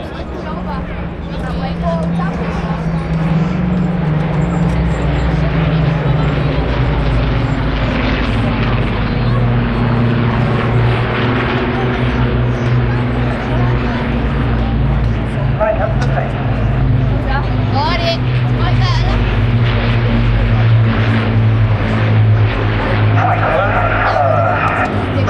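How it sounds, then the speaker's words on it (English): Spitfire and Hurricane fighters flying overhead together with a Lancaster bomber at the Blackpool airshow, a loud, sustained propeller-engine roar that stays strong and steady from start to finish amid crowd noise. "Spitfire and a Hurricane rolling over the top with a Lancaster underneath."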